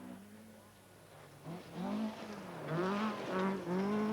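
A rally car slides through a stage and accelerates, its engine note swooping up and down in repeated revs that grow louder toward the end, with a rougher roar beneath.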